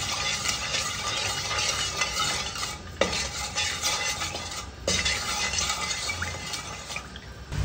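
Coconut milk and sugar mixture with ube flavoring for Filipino biko yema being stirred in a pan, a steady scraping swish with light utensil clinks and a low sizzle throughout, no voices.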